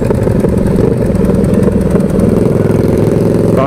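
KTM Super Duke motorcycle engine idling loud and close, a deep, steady throbbing rumble that holds without pause.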